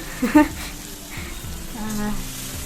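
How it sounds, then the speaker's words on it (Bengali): Bitter gourd and onion sizzle and fry in a pan with a soft crackle, while a person speaks over it briefly. "করলা ভাজাটা আজকে পেঁয়াজ দিয়ে করব"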